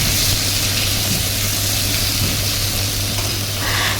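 Eggplant goes into a pan of frying potatoes for a fish curry, giving a loud, steady sizzle with a low hum beneath it, continuous and with no speech.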